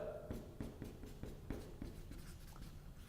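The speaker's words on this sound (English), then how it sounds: "Here, I'll write this down." Pen strokes scratch across paper as notes are jotted by hand, a run of short, distinct scribbling taps and scrapes at close range with no talk over them.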